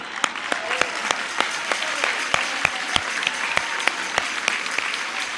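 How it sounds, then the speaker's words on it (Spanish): Crowd applause at an outdoor public gathering in La Antigua, Veracruz, with a continuous wash of clapping punctuated by sharp, distinct individual claps close by. "Un aplauso."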